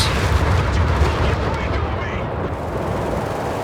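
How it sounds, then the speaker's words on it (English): Company of Heroes 3 battle with constant heavy explosions and bombing, a dense, loud rumble of blasts that barely lets up. "Kappa bombing out the side"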